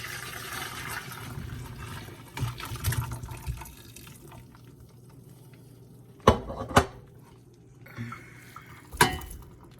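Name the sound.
straining water from boiled potatoes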